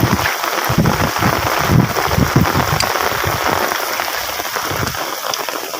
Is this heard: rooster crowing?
no